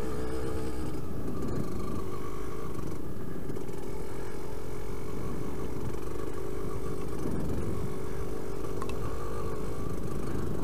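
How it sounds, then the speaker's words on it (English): A motorcycle labouring uphill in third gear on a rough byway, a steady, strained low engine drone heard close and unbroken beneath wind noise. "my bike's really not liking this third gear up here"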